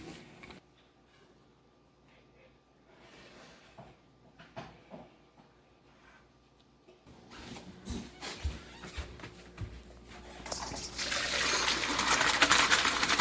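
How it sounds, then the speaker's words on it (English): Cooked noodles for a dairy-free kugel are strained into a colander. A few quiet knocks and clatters come first, then a rush of water swells and grows loud and steady toward the end, with no talking. "Our noodles have cooked for 5 minutes, so we're going to strain them like in a colander."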